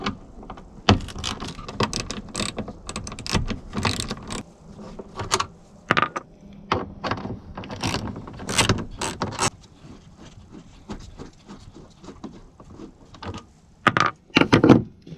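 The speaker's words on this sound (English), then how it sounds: "With a 10mm socket, go ahead and remove these 2 bolts that hold your tail light in." Tail light bolts removed with a 10mm socket on a Ranger 1000 side-by-side, close mechanical clicks, ratcheting and metallic rattles in an irregular run of taps and knocks, with no talk.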